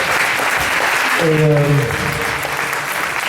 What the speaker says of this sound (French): donc applaudissez-vous, parce que c'est super